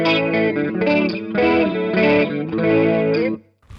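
Electric guitar through an analog C2 chorus pedal into an amp plays a few strummed chords with a shimmering, wavering chorus sheen, loud and close, ringing out briefly at the end.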